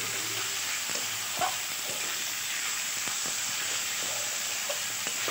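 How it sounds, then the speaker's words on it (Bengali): Marinated mutton sizzles and fries with onions and spices in a pan, a steady close hiss broken by soft scraping and clinks as a ladle stirs the meat. "পেঁয়াজটার সাথে মাটনটা ভালোভাবে মশলাটা মিক্স করে নিতে হবে।"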